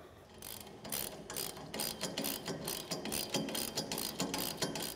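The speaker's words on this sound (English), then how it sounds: "Now we're going to go ahead and tighten the 13mm nuts." Ratchet tightening 13mm nuts while a SwitchBlade UTV snow plow is assembled, giving a close, steady run of rapid metallic clicks that continues throughout with brief pauses between strokes.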